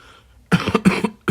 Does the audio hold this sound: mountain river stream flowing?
no